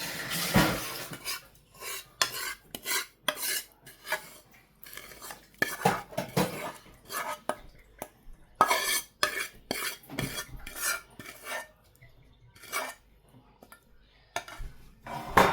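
Roasted cashews, almonds and pistachios being stirred into gram flour in a pan, with repeated scraping and clinking of a metal spoon against the pan in irregular bursts, fairly close, no talk.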